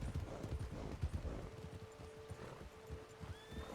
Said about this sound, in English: Got a few horses.